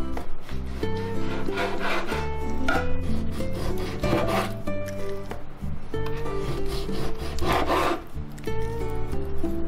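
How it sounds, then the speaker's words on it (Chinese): A knife cuts beef against the grain into thick slices for a Hakka-style dish, making repeated close rasping strokes on a wooden board under continuous background music. "把这个牛肉呢逆着这个纹路给它切成厚片。"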